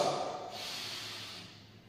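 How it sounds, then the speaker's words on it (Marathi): A long, deep yoga breath during relaxation after Suryanamaskar jumping, heard as a soft, airy, sustained breathing sound close to the mic, fading gradually with no talking. "और एक लंबा गहरा श्वास"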